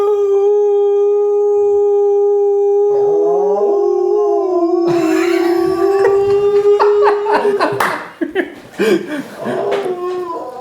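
Greyhounds howl along to a song, long sustained wavering howls over the music that rise in pitch, then break into scattered yelps and human laughter near the end.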